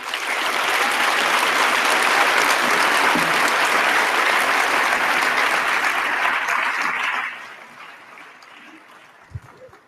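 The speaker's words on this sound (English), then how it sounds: "let's give them a round of applause" Loud, sustained applause from a graduation ceremony audience fills most of the stretch, then drops sharply near the end to a quieter tail.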